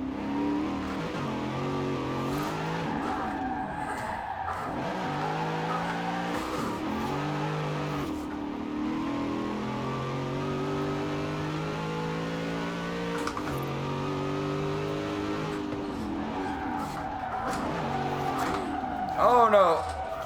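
A roughly 900-horsepower American sports car in the Forza Horizon 4 racing game roars at steady high revs throughout, the engine pitch sliding up and down through gear changes, loud and continuous, with a brief burst of tire noise near the end.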